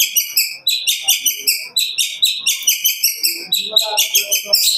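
A young long-tailed shrike sings loudly and close in rapid, repeated bursts of high, sharp whistled chirps, a fast continuous rhythm with faint background noise beneath.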